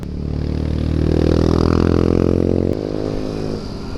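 Motorcycle being ridden: a loud, close engine revs up and climbs in pitch, holds a strong buzzing drone, then drops abruptly as the throttle eases, with wind noise underneath.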